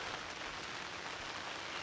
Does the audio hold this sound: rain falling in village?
yes